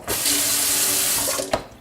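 Water gushes from a household tap used for an aquarium water change, a loud steady rush that starts abruptly and cuts off near the end.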